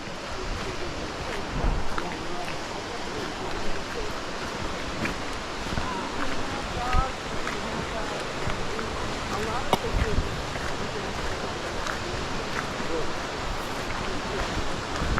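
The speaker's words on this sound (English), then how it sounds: "the water is coming down not as strong because it's like residual water" Residual water spilling down a waterfall onto rock on a hiking trail, a steady broadband rushing roar with wind buffeting the microphone, continuous and fairly distant.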